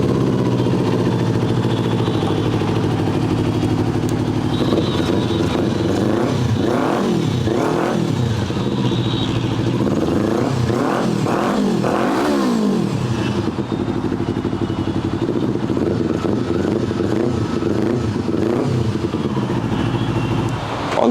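A parallel-twin superbike engine is being warmed up after a cold start, idling roughly up close and then revved repeatedly in sharp bursts, settling back to a lumpy idle between blips, with no voices over it.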